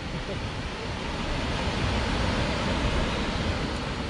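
Aibu Waterfall pours in a steady, dense rush of water, an even roar that holds at the same level throughout with no breaks.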